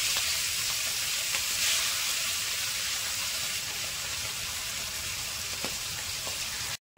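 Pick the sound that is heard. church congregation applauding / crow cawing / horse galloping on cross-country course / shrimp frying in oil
shrimp frying in oil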